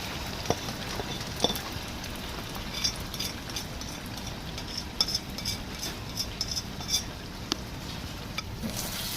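Egg scrambled in a hot pan on lowered heat while yam cooks alongside, with soft sizzling, a steady stirring scrape and occasional light clinks of a utensil against the pan, close and continuous.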